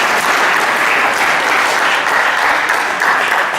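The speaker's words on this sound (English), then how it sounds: "So let's give them a round of applause." A steady, loud wash of audience applause for student speakers at a junior parliament event, dense clapping held evenly throughout with no talk.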